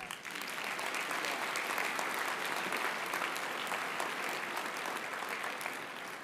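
Audience at a spring convocation breaking into warm applause, a dense, continuous clapping from a large crowd, steady and moderately distant, without voices.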